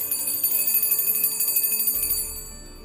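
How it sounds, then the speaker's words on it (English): Hand bell rung to summon helpers in an old ancestral house in Jimenez, Misamis, a rapid, even run of bright metallic rings lasting about two seconds, close and clear, then fading out. "they will always ring the bell."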